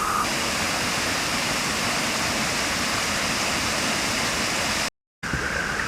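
Waterfall with rushing white water and circulating foam, a steady loud broadband roar that fills the whole clip, broken only by a brief dropout near the end.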